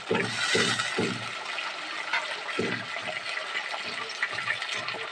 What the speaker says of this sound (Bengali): এবার এর মধ্যে সামান্য পরিমাণে একটু জল দেবো।